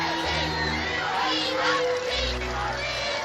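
A large crowd of around 10,000 people gathered on the Mall in London calling for the royal family, a dense, continuous roar of cheering and shouting voices heard from close by.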